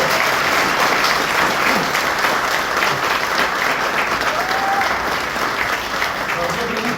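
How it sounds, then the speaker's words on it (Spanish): A church congregation claps loudly for about seven seconds during a Spanish-language service, a dense, sustained wash of hands. "Yo lo quería dar un aplauso al Señor."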